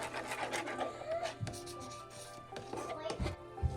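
Potato starch being stirred into a sauce for crispy sweet and sour pork, with soft scraping and rubbing strokes from a utensil in a bowl, close by, and a voice speaking over it.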